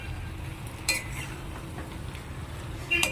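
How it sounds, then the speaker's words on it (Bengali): Jackfruit and prawn curry is sautéed and stirred in a pan, a soft, low sizzle with quiet stirring and a couple of brief utensil clinks against the pan. "এবার ভালো করে মিশিয়ে আবারও আমি কিছুক্ষণ ধরে কষাবো"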